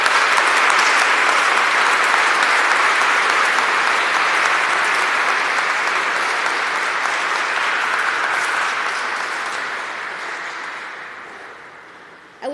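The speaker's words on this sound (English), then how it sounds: "Let's give the official members of the 2023 Stella Maris Chapter of the National Honor Society a round of applause." Sustained, dense applause from a large audience at a National Honor Society induction ceremony for the 2023 Stella Maris Chapter, loud and steady throughout before slowly tapering off near the end.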